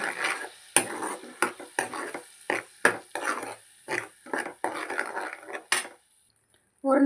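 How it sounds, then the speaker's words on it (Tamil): A utensil stirs and scrapes thick paste for a chicken gravy around a pan in quick irregular strokes, then goes quiet before a final scrape. "பேஸ்ட்டை போட்டு நல்லா வந்து கிளறிடணும்"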